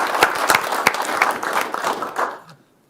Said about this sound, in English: So let's give Andrew another round of applause.